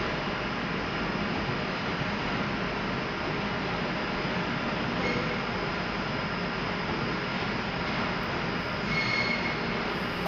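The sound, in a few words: train arriving at Birmingham New Street station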